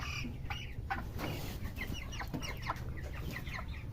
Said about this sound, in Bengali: একটা বড় দেখে একটা মুরগি ধরছে